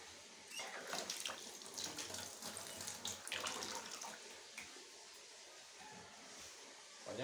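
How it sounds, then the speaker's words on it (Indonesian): Tap water running steadily at a kitchen sink while hands are washed during cilok dough preparation, a continuous soft splashing hiss with small clatters. "Pokoknya usahakan cuci tangan gitu."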